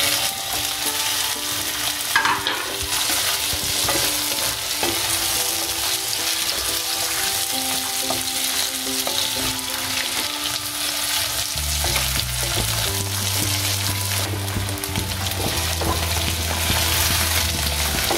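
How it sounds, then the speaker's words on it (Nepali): Sliced, washed potatoes fry in a pan for a saag-style curry, a steady close sizzle running throughout with occasional stirring scrapes and a low hum joining in the second half. "आलुलाई राम्रो रातो हुनेसँग गरेर भुट्नुपर्छ"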